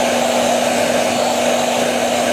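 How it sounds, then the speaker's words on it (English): A hair dryer blows steadily at close range while heating carbon vinyl wrap on a Range Rover, giving a constant whooshing airflow with a motor hum and no pauses. "I'm now going to use a hairdryer to heat it up"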